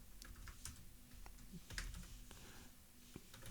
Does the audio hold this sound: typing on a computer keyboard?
yes